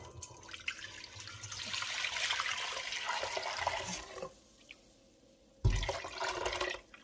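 Sweet rice drink (sikhye) is poured into a pot in a steady, gushing stream of liquid, stopping briefly and then resuming with a fresh splash before tapering off, close up and without talk.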